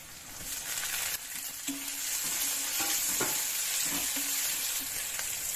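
Vegetables sizzle and fry in hot oil while a utensil stirs and scrapes the pan at an irregular pace, a steady close frying hiss for a breakfast avalakki bisi bele bath with tomato.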